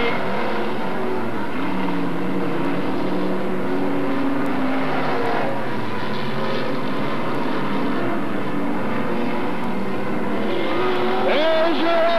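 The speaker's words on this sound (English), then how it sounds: "Russ Wolfe gets it right up in the second position. 1 lap remaining" Old-style dirt track race cars roar around a Billings speedway oval on the final lap, a loud continuous engine din with passing surges and a tire squeal near the end.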